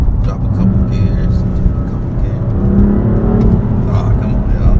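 A car engine revs up after a downshift of a couple of gears in a manual-style drive, a loud, close, rising growl with road whir, and a voice talks over it.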